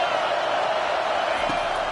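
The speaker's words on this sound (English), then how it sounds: "this crowd is turning it up a notch" Steady roar of a stadium crowd in a college football video game between Washington and Oklahoma, a dense continuous wash of cheering that holds level for the whole moment with no breaks.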